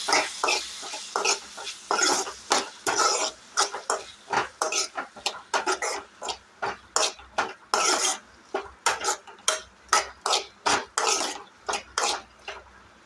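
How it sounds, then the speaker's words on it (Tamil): Potato sambar is stirred in a cooking pot with a spoon, producing a long run of close, rhythmic scraping and clattering strokes, each a short, distinct burst of metal against metal. "இப்போ இதை ஆட் பண்ணிவிட்டு நல்லா மிக்ஸ் பண்ணிக்கலாம்"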